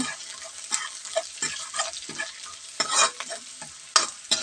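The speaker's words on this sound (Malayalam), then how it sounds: "കാൽ ടീസ്പൂൺ ഉപ്പ് നമ്മൾ ഇളക്കുന്നു" A brinjal stir-fry with salt stirred in a pan, close scraping strokes of a spoon through frying vegetables over a light sizzle, irregular and moderately loud, with no talking.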